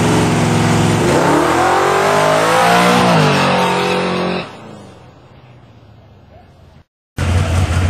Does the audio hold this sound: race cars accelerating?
yes